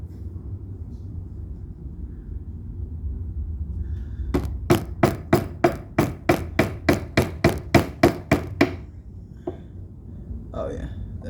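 Hammer blows during a bass guitar build, a rapid run of about fifteen sharp, evenly spaced strikes, close and loud, followed by a couple of lighter knocks.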